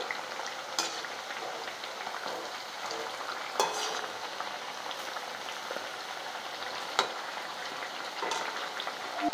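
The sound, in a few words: banana flower fritters frying in oil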